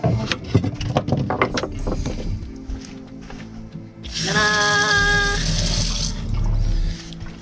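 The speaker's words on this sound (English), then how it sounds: "we managed to get our water running" Tap water running inside a converted bus: after a few seconds of quiet, a steady rushing flow comes on close by and keeps going for about two seconds, then cuts off.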